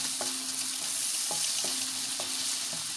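A small onion, four or five garlic cloves and two green chilies frying lightly in a pan for bitter gourd curry, giving a steady close sizzle with a few light clicks of stirring.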